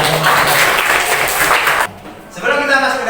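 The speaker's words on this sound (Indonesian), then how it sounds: "tepuk tangan untuk kita" A classroom of students claps together in a short, lively round of applause lasting under two seconds, then a teacher's voice starts speaking.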